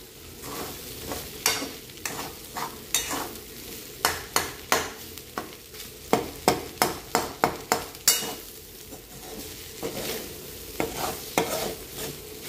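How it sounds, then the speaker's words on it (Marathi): Rice with salt, turmeric and coriander is stirred in a pan for a dried-fish rice dish, a spoon scraping and tapping in quick bursts of clinks over a faint sizzle, with no one speaking. "भात चांगला हलवून घ्यायचा"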